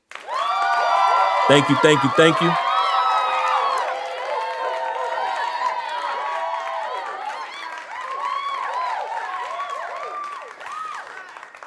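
Applause and cheering erupt loudly on a radio call-in show about the Steelers, a dense crowd-like roar that swells early then holds steady before tapering, with a brief spoken thanks over it.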